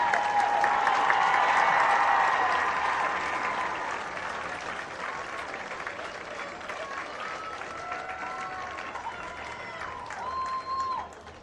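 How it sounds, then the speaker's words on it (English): A crowd in the stands applauds the homecoming court at a 2022 high school football game, Eau Claire North, a broad wash of clapping that starts loud, slowly thins and fades, with a few distant voices and whistle-like tones mixed in. "give a big round of applause to your 2022 Homecoming Court"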